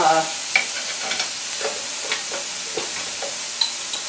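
Liver and onions fry in a pan with oil as fresh lemon juice goes in, giving a steady crackling sizzle with intermittent stirring scrapes and clinks, close and without talk.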